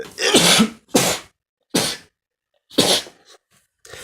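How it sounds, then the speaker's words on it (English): Several sharp sneezes triggered by dust, close and loud, in quick bursts with short silent gaps between them. "I kind of can't do much but sneeze"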